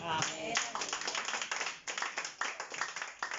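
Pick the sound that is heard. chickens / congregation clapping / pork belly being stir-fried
congregation clapping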